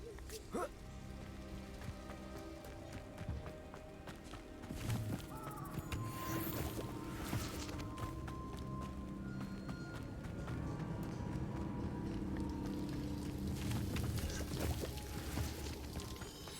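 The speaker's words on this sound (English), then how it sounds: "The waterfall." A waterfall in a video game gives a steady broadband rushing wash. It is faint and continuous, with no clear breaks or other events, and no one talks.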